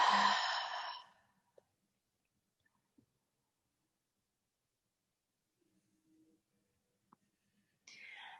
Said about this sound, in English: I'm practicing today with my mouth open to create a little bit more sound